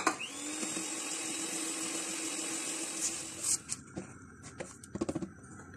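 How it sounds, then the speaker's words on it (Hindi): An electric mixer beats butter, sugar and eggs into a carrot almond cake batter, a steady close whir that halts partway, followed by a few short bursts and clatters. "दूसरा अंडा डालेंगे और इसको मजीद बीट करेंगे"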